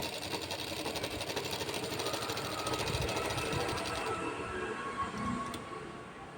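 A sewing machine stitches a blouse, running in a steady, continuous mechanical whir with a rapid repeating needle rhythm, loud and close throughout.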